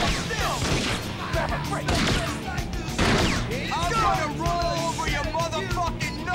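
Gunfire breaks out during a street-gang fight in The Warriors video game: several sharp shots and crashing impacts in quick bursts, heard over the game's background noise.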